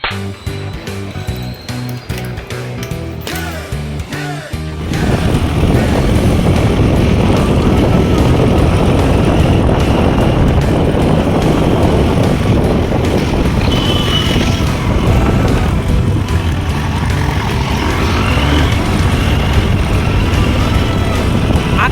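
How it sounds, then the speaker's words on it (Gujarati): A steady roar of motorcycle engine and rushing night wind fills the air after a brief quieter start, continuous and close, riding at speed. "રાતે ઠંડો ઠંડો પવન અને બાઇકમાં સેલ મારીને ફરવાની"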